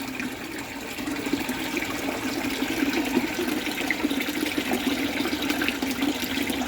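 Water flowing steadily through a custom-built aeration tank system that oxygenates a concrete pond for giant freshwater prawns: a continuous, fairly loud rushing and splashing with no pauses.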